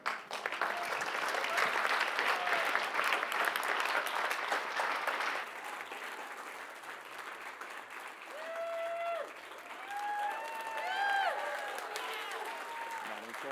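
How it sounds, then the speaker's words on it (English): A crowd claps steadily for several seconds, then the applause thins while whistles and cheering voices rise over it. "Round of applause."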